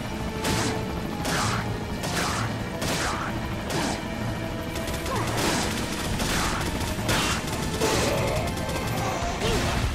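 Gunfire in Resident Evil 4 on PS4, a steady series of loud, sharp shots roughly every second, each with a crashing impact, over a busy game background.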